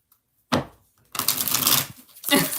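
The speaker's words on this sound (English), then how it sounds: "3 more shuffles." Tarot cards are shuffled in three quick riffling bursts, close and crisp, separated by brief pauses with no talk.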